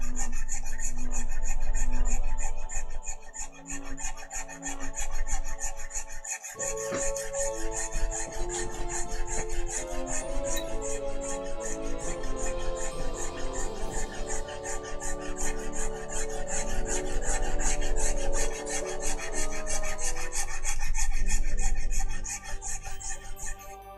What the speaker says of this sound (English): But that sandpaper gets worn down and it gets loaded up.